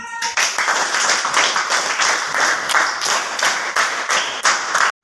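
A school audience claps steadily for about five seconds, dense and continuous applause that stops abruptly at the end.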